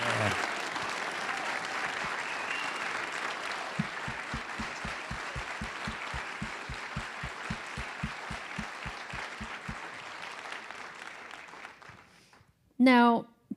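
A large audience claps steadily for the finalists at a live social venture event, a dense sustained wash with a rhythmic low thumping under it, fading out before a brief voice at the end.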